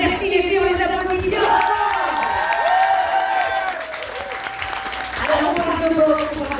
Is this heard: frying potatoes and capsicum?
no